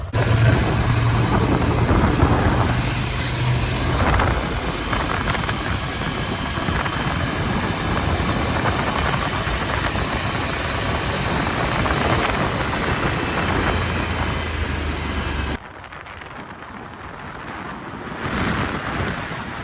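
A Ducati Scrambler motorcycle ridden on the road, heard from a helmet-mounted GoPro: constant engine drone buried under heavy wind rush, steady and loud, with a sudden drop in level near the end.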